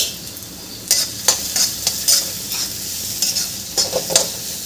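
Carrots sautéed in a pan over a high flame, a steady hiss of frying broken by a series of sharp scraping stirs and tosses at irregular intervals, close and fairly loud.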